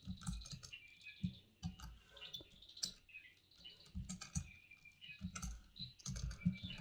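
Close, quiet typing of Java code on a computer keyboard, with a steady patter of keystrokes and occasional heavier key strikes running continuously, and no voices.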